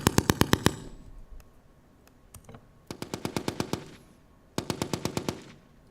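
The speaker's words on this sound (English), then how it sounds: "if you want your weapon to sound like it's far, well, yeah, the mic has to be placed very far from the shooter" Bursts of automatic weapon fire captured by a microphone placed far from the shooter, three rapid strings of six to eight shots with echoing tails and a few scattered single cracks between them, no voices.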